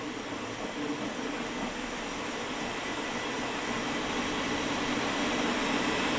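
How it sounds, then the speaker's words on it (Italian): A Creality K1C carbon 3D printer running at high speed gives off a loud, steady broadband whoosh of fans and motors that holds unchanged and rises slightly for about six seconds, with no voices. "pazzesco la velocità di questa stampante, ve la faccio vedere nel dettaglio"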